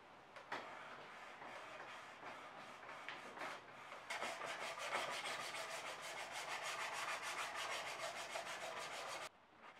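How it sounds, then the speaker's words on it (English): A homemade bo-hi polishing tool scraping along the groove of a katana blade, with rapid back-and-forth rasping strokes, loud and close, running steadily before stopping abruptly near the end. "how efficiently does the tool clean this groove out"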